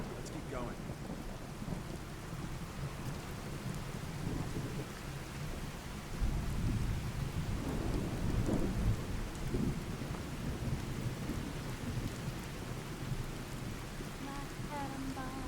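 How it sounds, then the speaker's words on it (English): Rain and thunder in the modded video game Fallout 4: steady rain hiss fills the whole stretch, and a deep thunder rumble swells in the middle before fading. "Oh man, that sounds like rain. It kind of feels like rain."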